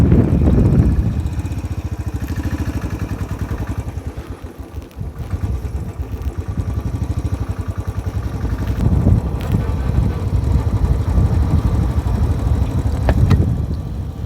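A motorcycle runs on a sandy mountain road, its engine droning steadily at mid distance with rumbling wind buffeting the microphone throughout.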